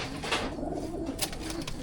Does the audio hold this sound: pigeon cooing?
yes